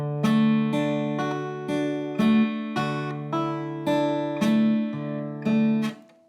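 Guitar notes plucked one after another in a steady, even pattern, each ringing into the next, clear and close with no talking.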